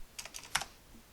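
A few quick keystrokes on a computer keyboard: a short burst of light clicks followed by a single firmer tap, close and quiet with no talking.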